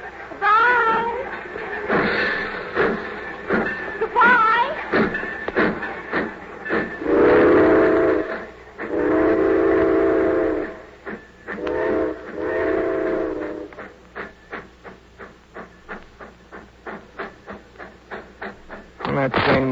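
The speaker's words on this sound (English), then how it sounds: "That train went." A departing steam train sounds long, loud whistle blasts in the middle, then its chuffing settles into a quickening rhythmic beat as it pulls away, with voices exchanging goodbyes early on.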